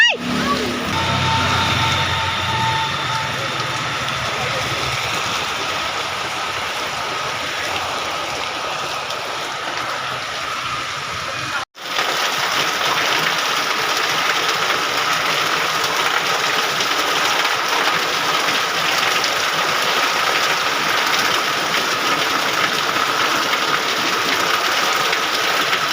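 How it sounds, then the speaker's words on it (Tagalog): Dense, steady rush of heavy typhoon rain in Metro Manila, loud and unbroken, with a brief cut in the middle before the downpour continues. "Walang tigil ang ulan."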